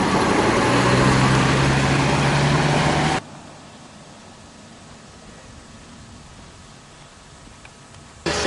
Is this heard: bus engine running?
yes